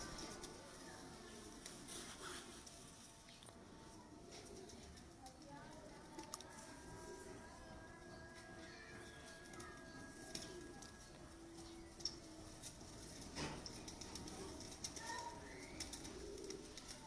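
Pigeons coo softly amid a busy background of faint rustling, tapping and murmuring, with occasional sharp clicks.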